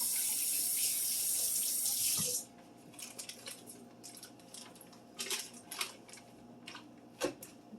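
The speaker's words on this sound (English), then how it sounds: "always rinse your hands with soap and water after touching chicken." A kitchen tap runs steadily for about two seconds while hands are rinsed after handling raw chicken, then shuts off, leaving light clinks and handling clatter close by.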